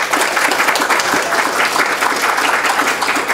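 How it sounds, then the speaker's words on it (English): Loud, dense applause from an audience at a library photography show, continuous and even for the whole stretch. "Let's give you two a round of applause."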